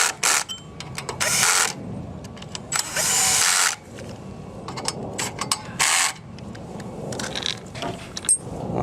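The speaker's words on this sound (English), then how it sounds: "I like tightening down the carburetor bolts first so it's all aligned." A power drill tightening carburetor bolts on a Coleman Powermate 1350 generator, running in loud, close bursts of whirring separated by short pauses and metallic clinks.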